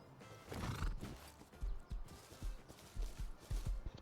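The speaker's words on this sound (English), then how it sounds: "what is up with this low poly horse?" A low-poly horse in the survival video game Rust neighs, then walks with a run of distinct clip-clop hoofbeats, close by and fairly quiet, with no talking.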